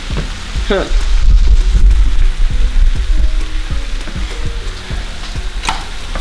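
Noodles and vegetables being stirred in a hot frying pan, loud continuous sizzling with scraping and clattering from the stirring, a brief voice passing over it near the start.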